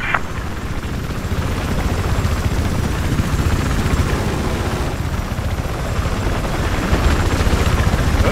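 A helicopter in the video game Battlefield 4, on the Altai Range map, gives a steady rotor drone with engine rumble, continuous and fairly loud throughout, with some rough noisy texture layered over it.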